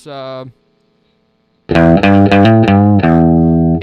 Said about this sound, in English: does the kind of twangy, surfy Fender sound really well